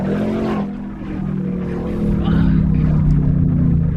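A 2019 Ford Mustang GT V8 engine hums at a steady idle-to-rev drone, the note rising slightly toward the end, close and fairly loud with no talking over it.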